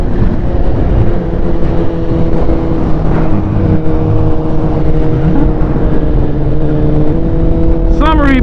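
A BMW HP4 sport motorcycle with a Woolich tune accelerating hard, its engine a loud, continuous drone with steady harmonic tones and a rising pitch sweep near the end, recorded close up.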